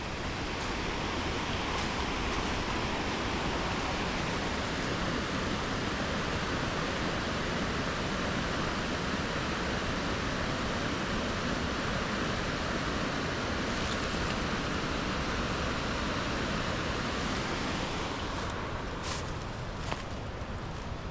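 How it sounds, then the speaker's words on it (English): Waterfall beside the Buckeye Trail, a steady, loud broadband rush of falling water that fills the whole stretch without pause, with no talk over it. "Take a look at this waterfall one last time."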